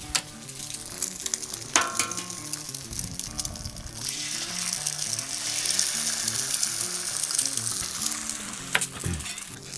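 Eggs and pulled pork frying on a flattop griddle give off a steady, close sizzle that grows denser midway, with occasional scrapes and clinks over low background music.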